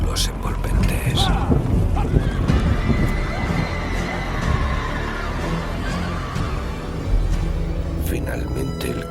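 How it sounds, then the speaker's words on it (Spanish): Frightened carriage horses neigh, snort and whinny on a dark night with wolves about, steady and fairly loud, running under continuous spoken narration for several seconds. "los caballos comenzaron a temblar y a bufar y relinchar de miedo"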